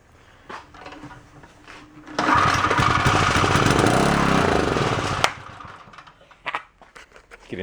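A small Onan generator engine from a yard sale cranks and catches at about two seconds, then runs loud and steady for roughly three seconds before cutting off abruptly, with scattered handling clunks before and after.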